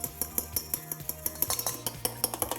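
A utensil whisking an egg with water and a pinch of salt in a small bowl, quick rhythmic clinks and taps against the bowl repeating steadily, close and moderately loud with no talking.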